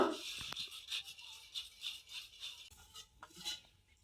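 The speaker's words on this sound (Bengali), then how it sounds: "লবণটা আমি জলের সঙ্গে গুলিয়ে নেব" A spoon stirs salt into water in a bowl, giving quiet, rhythmic scraping and clinking strokes at a steady pace, close and alone.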